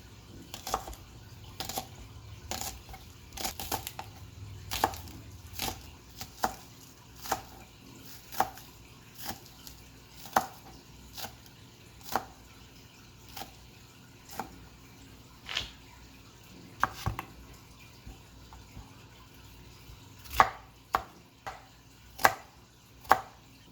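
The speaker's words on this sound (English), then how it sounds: "So that can sit there while I cut up the scallion" A knife chops scallions on a cutting board in steady, separate taps, about one every second, close and clear, with no talk over them.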